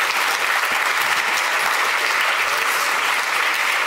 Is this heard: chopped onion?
no